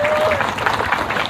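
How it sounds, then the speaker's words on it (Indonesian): An audience breaks into applause, a dense burst of clapping heard up close at an Indonesian religious gathering, with a voice overlapping at the start. "Tepuk tangan dulu."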